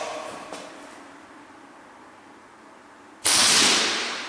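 Air rifle firing a single .22 calibre pellet at an indoor range: one sharp, clean crack near the end with a short reverberant tail, preceded by faint quiet room tone.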